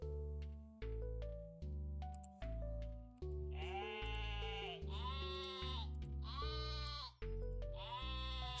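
Sheep in the farming video game Terracards give a run of repeated synthetic bleats, several in a row with short gaps, clear and alone over quiet game tones.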